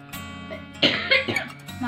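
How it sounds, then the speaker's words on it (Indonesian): A person coughs in a few harsh bursts, close to the mic, with a brief throat-clearing quality and a quieter pause between fits. "Maafkan aku yang batuk-batuk ini"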